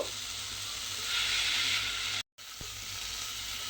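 Salt and turmeric mixture cooking in a pan for a raw mango chutney, a steady close hiss of frying that swells briefly, cuts out for a moment, then resumes with a light tap.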